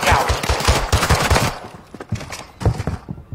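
Loud, rapid automatic gunfire from a video game rattles in dense bursts, then gives way to sparser, fainter shots.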